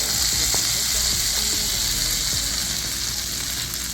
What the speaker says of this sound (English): put in our butter and some olive oil, just a little bit.